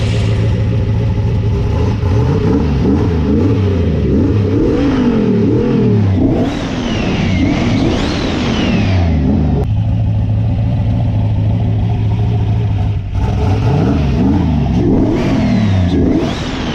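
A car engine recently converted to EFI revs repeatedly on the throttle, loud and close, rising and falling in several bursts with a short steady idle between them.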